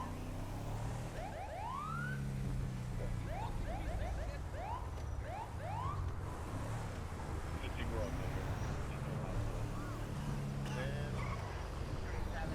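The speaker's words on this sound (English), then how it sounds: "Don't you hear the siren?" A police car siren wails over and over in the LSPDFR video game, loud and near, its rising sweeps repeating over a steady rumble of engine and traffic.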